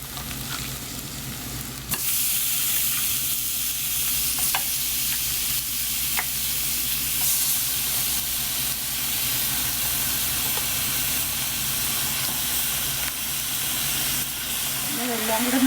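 Beef hits a hot pan with curry leaves for a Kerala beef fry: after a quieter start, a loud, dense sizzle and hiss erupts and holds steady under occasional stirring scrapes.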